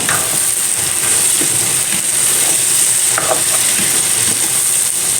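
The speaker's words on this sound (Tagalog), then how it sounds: "Haluin po ulit natin." Pork and eggplant stirred with a rice ladle in a frying pan, binagoongan-style with pepper: steady close sizzle under intermittent scraping and clinking strokes, no talk.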